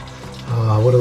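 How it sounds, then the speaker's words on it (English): A toilet flushes with a sudden rush of water that swells halfway through and keeps surging loudly to the end, following a quieter gurgle. "Then we're gonna flush that toilet."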